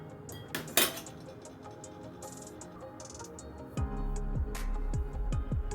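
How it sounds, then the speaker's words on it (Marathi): A spoon clinks and scrapes against a metal bowl or sieve while cake batter for a vanilla marble chocolate cake is stirred and strained, with scattered light taps early and a run of repeated scraping strokes toward the end. "त्याच्यामध्ये चम्मचने थोडं खळून घ्यायचं आणि गाळून घ्यायचं छान"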